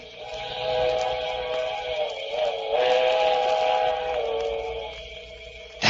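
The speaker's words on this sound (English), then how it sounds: "that was it. The midnight train." A steam train whistle sounds on a cold night near a bridge, a long sustained wail that holds and shifts pitch slightly as the train approaches, moderately loud with no talking.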